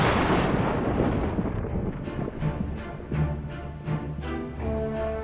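Thunder rolls through a storm as a broad, deep rumble, swelling into several loud cracking surges toward the end, with no voices.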